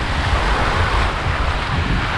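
Wind and sea waves at Kamala Beach in Phuket: a steady, loud wash of surf mixed with gusty wind rumble on the microphone, continuous throughout with no voices.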